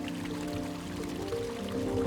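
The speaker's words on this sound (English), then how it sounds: "this is a natural spring. It's called the Volunteers Well" Natural spring water trickles at the Volunteers Well on Cave Hill in Belfast, a soft, close, continuous burble with light dripping and gurgling tones.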